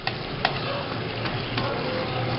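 A chicken sauce with tomato ketchup and sugar is stirred in a pan, giving a soft sizzle with a couple of sharp utensil taps and scrapes, close and brief, no talking.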